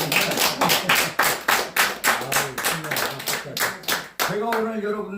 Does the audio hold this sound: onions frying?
no